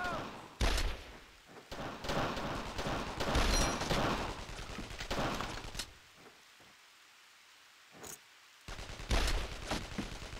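Rapid bursts of gunfire in the World War II video game Brothers in Arms: D-Day, with loud volleys and scattered single shots, a brief quieter pause, then more shots.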